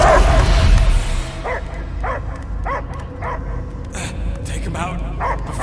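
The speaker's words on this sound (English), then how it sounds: "I hear only barking." Dog barking in the Guardians of the Galaxy video game, a string of short, evenly spaced yips and barks under steady game ambience, following an opening burst of noise.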